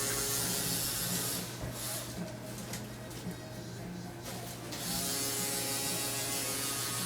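Rotary tattoo machine running while outlining on skin, a steady close mechanical hum with a faint buzzing hiss that softens briefly in the middle before resuming.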